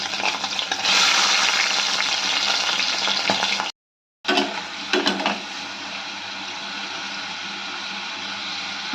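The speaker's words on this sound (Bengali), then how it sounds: "আমরা চিংড়ি মাছগুলো এবার ভালো করে ভেজে নেব" Prawns fry in a pan with a steady hiss and crackle, briefly cutting out and then returning with a few stirring scrapes before settling into a softer, even sizzle.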